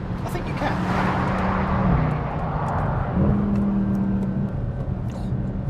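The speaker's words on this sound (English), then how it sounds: "Those gear shift snaps." A Mercedes-Benz C63 AMG Black Series with the M156 V8 drives close by, its engine drone rising and dropping as gears change, with a couple of sharp shift points over loud road and wind noise.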